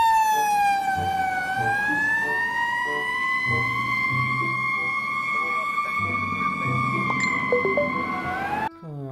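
A toy fire engine's electronic siren wails steadily in a rising and falling tone, loud and close, with faint clicks and handling noises beneath and a brief clatter at the end.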